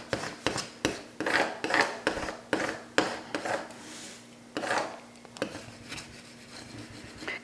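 A scraping tool pressing vinyl stencil down onto wood: quick, repeated rasping strokes in an uneven rhythm, close and fairly soft, with no talking.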